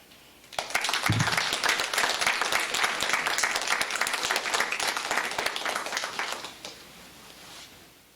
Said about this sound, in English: a huge round of applause for all of our participants